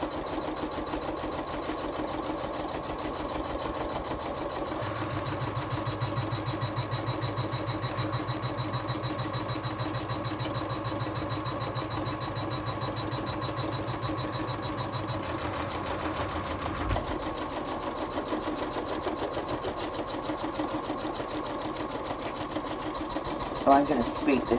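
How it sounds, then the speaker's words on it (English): An embroidery machine stitches out a placement line for a pencil case, producing a continuous fast mechanical chatter of rapid needle strokes with a lower motor hum that drops away midway, while a person talks throughout. "I'm just going to press stop and let it stitch out the placement line"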